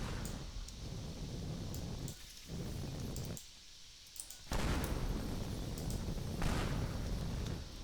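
Explosions in the Teardown video game, a dense rumbling wash of blasts and crumbling debris with a brief lull before a louder, sustained burst of destruction.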